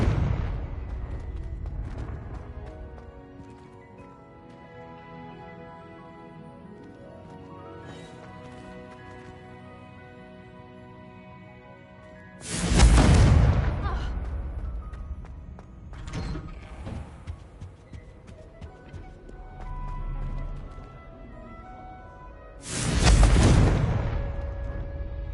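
Explosive spell blasts in a wizarding video game, two loud broadband bursts about ten seconds apart standing out over a steady layer of game music and ambient effects.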